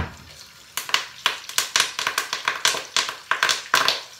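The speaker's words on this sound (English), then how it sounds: "You hear those popping bits? Lovely. That's what you want to hear." Three or four garlic cloves fry in hot oil for a Trinidadian vegetable curry, crackling and popping in a rapid irregular series of sharp close bursts, with no talking.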